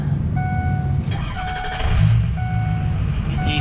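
A 2004 Ford F350 diesel pickup cranks and fires up, its engine catching and settling into a steady rumble, close by, with chime-like beeps from the cab at the start.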